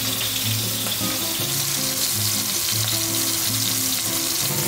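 Scallops seasoned with salt and pepper sear in a hot pan, a loud, steady, close sizzle running without pause throughout, with faint clinks of cookware underneath.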